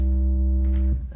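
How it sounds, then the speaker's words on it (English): An overdriven synth tone in FL Studio, pushed from a smooth sine toward a buzzy square, holds a steady, harmonically rich low note for nearly a second before abruptly breaking off into a shorter, brighter fragment. "the overdrive makes it from a sine wave to a square"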